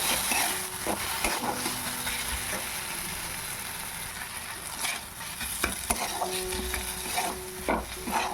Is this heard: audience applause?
no